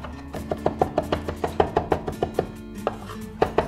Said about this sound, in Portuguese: Vamos cortar bem fininho. Vamos afinar o corte aqui